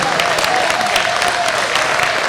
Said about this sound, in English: have another nice round of applause for him